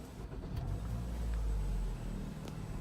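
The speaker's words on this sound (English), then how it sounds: "after entering the code, I will be able to start the vehicle" A Toyota Harrier's engine starts after an immobilizer code is entered, rising into a low, steady idle rumble close by with a faint click at the start and no talk.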